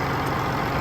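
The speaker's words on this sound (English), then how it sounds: "It does get a little bit loud when I get close to the engine." A truck engine idles close by, a steady, loud low rumble with no breaks and no voices.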